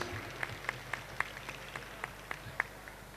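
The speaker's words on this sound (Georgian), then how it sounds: "აპლოდისმენტებით მოვიხმოთ ჩვენი ულამაზესი ნანიკოს სცენაზე" Audience applause welcomes a young dancer onto the stage at a children's dance concert: faint, scattered claps with a few sharper hand-claps standing out over a quiet hall.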